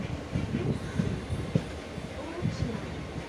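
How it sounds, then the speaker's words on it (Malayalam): A train pulls into Ochira railway station with a steady rumble and occasional wheel clacks, moderately close and even throughout. "ട്രെയിൻ ഓച്ചിറ റെയിൽവേ സ്റ്റേഷനിലേക്ക് എത്തിയിരിക്കുന്നു."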